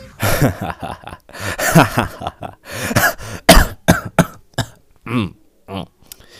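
Someone nearby coughs and clears their throat repeatedly in loud, rough bursts, with short pauses between them.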